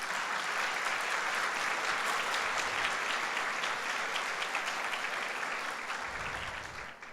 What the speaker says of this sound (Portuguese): Eu queria que a igreja que concorda com essa oração desse um aplauso a Jesus.